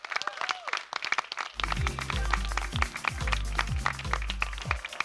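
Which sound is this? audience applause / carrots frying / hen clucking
audience applause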